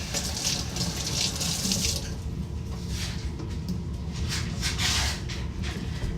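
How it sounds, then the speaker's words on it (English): Water from a kitchen tap runs steadily into a sink as food is rinsed under it, a continuous close splashing hiss with slight changes as the food moves through the stream. "let me rinse this off"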